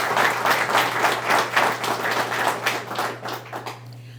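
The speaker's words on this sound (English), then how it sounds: "Please give her another round of applause." Applause from an audience at an Alabama broadband funding announcement by the governor, dense clapping that holds steady then tapers off near the end, over a low steady hum.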